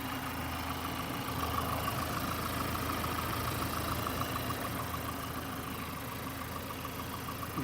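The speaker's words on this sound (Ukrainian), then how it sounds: "Двигун робить бездоганно, абсолютно бездоганно." A Ford Focus 2.0 TDCi diesel engine idles steadily with a low, even rumble and a faint rhythmic ticking, running alone without any voices.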